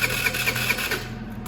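A 50cc scooter engine that has sat unused for a long time catches on a cold start and settles into a steady, buzzing mid-pitched hum, close by and without talk.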